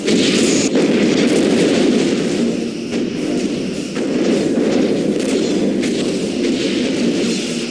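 Quantum torpedoes firing and striking a ship's hull during space combat in Star Trek Bridge Commander: a loud, continuous barrage of rumbling booms and blasts with repeated bursts, with no voices over it.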